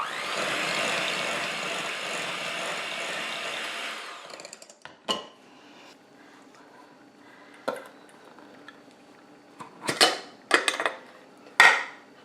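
A maraschino cherry juice mixture for chocolate-covered cherries is mixed with a steady whirring for a few seconds, then it stops and a handful of sharp clinks and knocks of utensil against bowl follow at close range.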